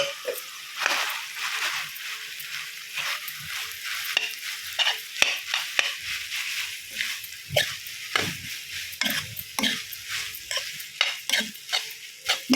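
Pasta tossed with soy sauce in a pan: a spoon scrapes and stirs in quick, irregular strokes over a steady background sizzle, close and moderately loud, with no talking.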